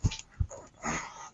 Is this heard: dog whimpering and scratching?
yes